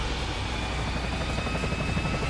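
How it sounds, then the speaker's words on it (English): A helicopter's rotor in the video game Resident Evil 4 thumps steadily and loudly, a continuous chopping drone with no voices. "Helicopter!"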